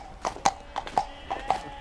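Hooves of a ridden horse clip-clop on a hard surface in a steady, close rhythm, about six distinct strikes in under two seconds.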